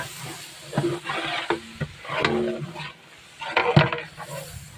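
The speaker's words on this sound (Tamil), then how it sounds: "உப்பு சேர்த்துட்டு நம்ம கிளறி விட்டுடலாம்." Chicken biryani masala with salt stirred in a pan, giving irregular scraping and sizzling bursts with faint clinks, moderately close and without talk.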